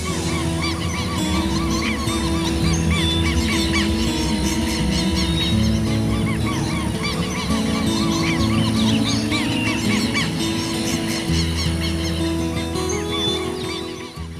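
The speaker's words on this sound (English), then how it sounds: "So many parrots." A loud, dense chorus of parrots squawking and honking continuously, many calls overlapping close by with no speech.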